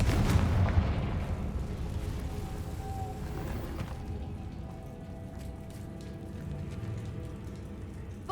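Confringo fire spell blasts in Hogwarts Legacy, a loud burst at the start decaying into a sustained crackling, rumbling roar with scattered sharp pops, game music faintly underneath.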